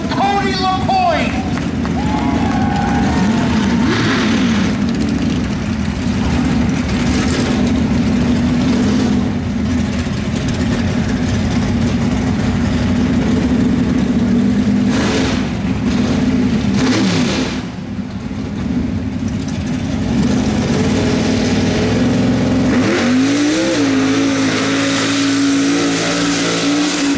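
A mud truck called Black and Blue revs hard at a mud bog event in Olivet, its loud roaring engine sustained throughout with crowd noise and an announcer's voice underneath.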